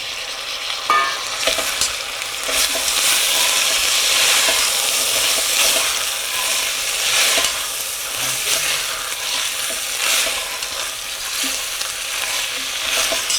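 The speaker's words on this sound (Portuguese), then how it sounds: "Mesma coisa, refogo bastante, misturando bem." Lentils and paio sausage are sautéed and stirred in a pot aboard a boat. A loud, continuous sizzle runs throughout, with stirring scrapes rising and falling.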